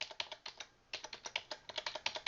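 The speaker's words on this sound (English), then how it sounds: "use the up and down arrow keys" Arrow keys tapped on a computer keyboard, a quick run of crisp, close key clicks in an uneven rhythm with a brief pause early on and no voices.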